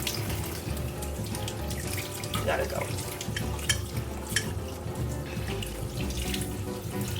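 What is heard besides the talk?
lukewarm tap water running into a sink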